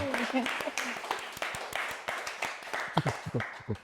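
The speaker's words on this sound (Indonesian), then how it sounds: "Saya baru dengar suara tepuk tangannya di sini" Scattered clapping from a large crowd of supporters at Gelora Bung Karno, with sharp claps popping out over a dense background of cheering and voices.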